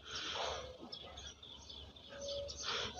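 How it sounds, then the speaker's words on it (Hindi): House sparrows chirp softly in a scattered, ongoing chatter, faint and somewhat distant, with several quick tweets overlapping. "ये गौरैया चिड़िया लोग है,"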